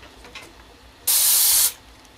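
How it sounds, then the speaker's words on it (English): A Paasche single action airbrush sprays while being cleaned, a single loud hissing burst of about half a second, with quiet surroundings before and after. "This is a Pache single action airbrush"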